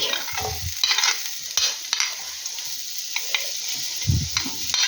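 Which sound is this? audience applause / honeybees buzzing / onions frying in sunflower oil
onions frying in sunflower oil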